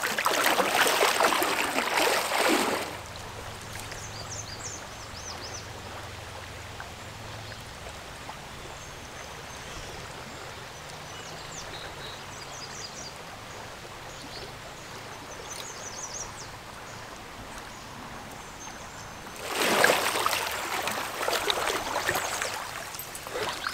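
Fast-flowing stream water rushes steadily throughout where anglers are euro nymphing for brown trout, a constant broadband wash, with louder, nearer bursts of rushing water at the start and end.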